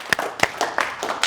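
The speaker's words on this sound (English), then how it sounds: "Let's clap for self-sabotage." An audience claps in sparse, uneven bursts, about six sharp claps over a second, fairly close and with no talking.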